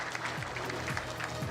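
Applause at the YMI Centennial Celebration, a brief steady patter of crowd clapping, fairly soft and even throughout.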